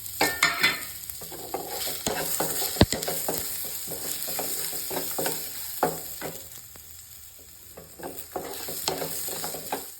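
Onion and curry leaves fry and sizzle in a pan for a turkey berry chutney, a steady crackling hiss broken by stirring scrapes and a few clinks of the spoon, close and fairly loud with no talking.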